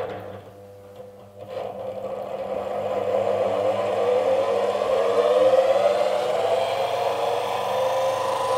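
A honey extractor drum spins up slowly, its motor whirring as it gradually rises in pitch and speed, a steady mechanical hum that grows louder and then holds.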